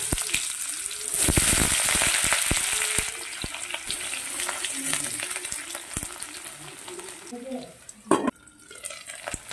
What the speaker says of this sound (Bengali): শুরুতে আমি আলুগুলো আগে খুব ভালো করে ভেজে নেব।